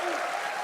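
Applause from a crowd watching a Summer Game Fest showcase, a steady wash of clapping close up and fairly loud throughout the short moment, with no speech over it.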